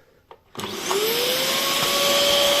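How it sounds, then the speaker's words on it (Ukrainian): A vacuum cleaner powered through an inverter switches on after a couple of faint clicks and spins up into a steady, loud whirring drone with a rising whine. "І пилосос працює"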